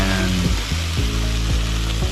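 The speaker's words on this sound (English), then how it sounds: "So our vegetables are cooking down nicely" Vegetables sizzle steadily in a hot pan while cooking for a healthy chicken parmesan, a loud, even frying hiss with faint rhythmic stirring and no talking.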